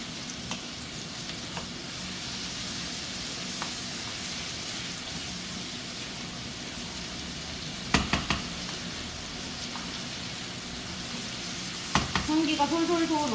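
Chicken pieces fry in a hot pan for kkanpunggi, a steady close sizzle and crackle running throughout, with a few sharp knocks of utensils against the pan near the end.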